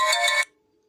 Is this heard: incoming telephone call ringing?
yes